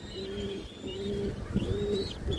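A silver male pigeon coos at a home loft, several low rolling coos in a steady rhythm, close and clear, with faint higher chirps behind.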